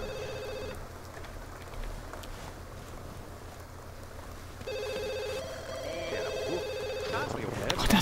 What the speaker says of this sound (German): Ach, das Telefon